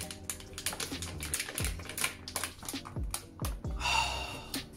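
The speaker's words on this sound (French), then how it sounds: "on va ouvrir le paquet." A packet of coffee beans is torn and opened up close, with crinkling plastic and sharp rustling clicks coming in quick irregular bursts.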